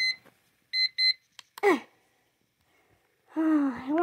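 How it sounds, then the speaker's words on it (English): An alarm clock in a bedroom beeps in two short, sharp double bursts, followed by a sudden gasp and a low, drawn-out groaning voice after a quiet pause. "Alarm! Alarm!"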